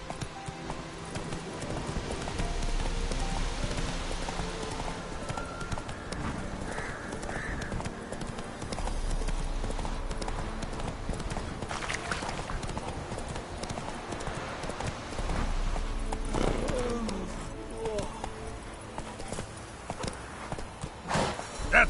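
Hooves of Roach, the horse in The Witcher video game, clip-clopping at a steady galloping rhythm for a long stretch, near and continuous, with brief calls from a rider.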